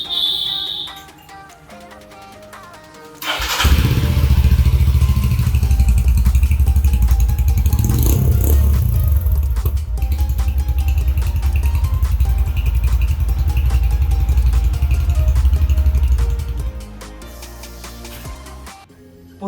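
A Royal Enfield Himalayan motorcycle engine cranks and catches, then runs at a loud, steady, close idle for over ten seconds before settling lower near the end.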